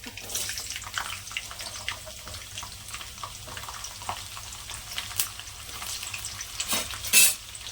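Crushed garlic and cumin sauté in a hot pan, a steady close sizzle with scraping stirs throughout and a sharper clatter just before the end.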